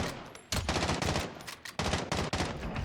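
Call of Duty: Warzone gunfire erupts in loud, close automatic bursts, two long sustained volleys broken by a short gap, with no talk over it.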